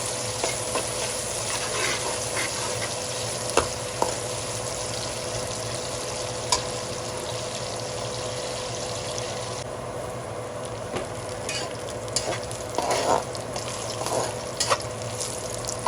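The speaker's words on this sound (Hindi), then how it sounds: "प्याज हमारे ब्राउन हो रहे हैं।" Chopped onions frying and browning in a pan for chicken biryani pulao, a steady close sizzle with occasional stirring clinks and scrapes, no talking.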